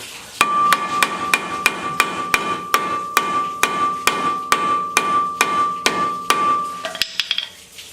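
Steady, evenly spaced metallic hammer blows on a seized Mazda Miata brake rotor ring out close by, about two per second, each with a bright clang, ending in a few scraping knocks.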